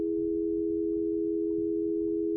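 A clean, steady sine-wave tone holds at one pitch throughout, loud and unwavering, with a faint low rumble of background noise beneath it.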